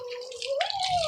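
Water from a garden hose splashes steadily onto soil around a newly planted tree, a continuous close spatter that swells slightly in the second half.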